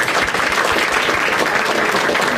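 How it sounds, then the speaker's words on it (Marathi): A stand-up comedy audience bursts into loud, dense applause, the many-handed clapping filling the room evenly from start to end with no talking over it. "एकदा टाळ्या वाजवा दोघांसाठी."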